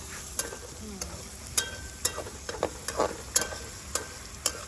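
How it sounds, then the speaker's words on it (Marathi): Ingredients for poha sautéed in a pan, with a spatula knocking and scraping against the metal in regular sharp taps over a gentle sizzle, close and without talk. "हे सगळं परतून घ्यायचंय आता"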